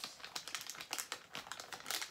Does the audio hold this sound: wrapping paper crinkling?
yes